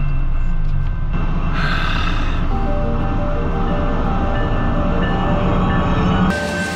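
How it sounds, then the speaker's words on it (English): Giant freight train rolling past close by, a loud continuous rumble and clatter of wagons with squealing and hiss layered over it, steady throughout with no talk. "The giant freight train."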